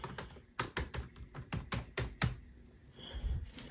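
Keys clacking on an HP 17-cn0033dx laptop keyboard, a run of crisp close taps in an uneven rhythm, pausing briefly before a few more presses.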